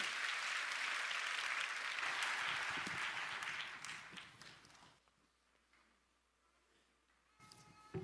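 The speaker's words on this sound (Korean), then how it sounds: "자, 박수로 맞겠습니다." A church congregation at a prayer meeting applauds, with a full, steady wash of clapping for about four seconds that thins and dies away, followed by near silence and a faint rustle.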